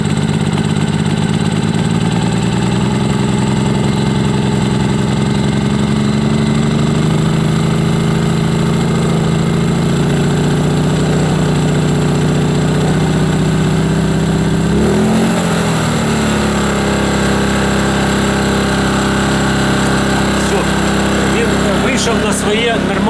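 A GTM R2500IS 2.5 kW inverter generator runs steadily at moderate revs close by, its engine drone constant and loud, with a brief dip in the middle before settling again.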